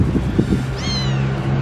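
A cat gives a single short, rising meow at moderate distance, set against a soft, breezy background rumble.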